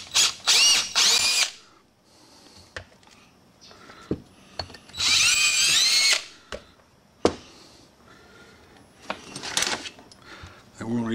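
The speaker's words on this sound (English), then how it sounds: "So we're going to drill a hole" A power drill fitted with a 13/64 bit bores a hole for a quarter-20 tap on a mower deck spindle part, whining up in several loud bursts separated by short pauses, clicks and handling noises, close by.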